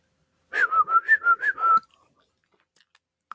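A person whistles a short tune of about six rising and falling notes, close and clear, then stops into near silence with a few faint clicks.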